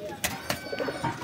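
Pigeons coo in a high-flying pigeon loft, a few soft low calls and brief bursts close by, with a faint voice speaking in the background.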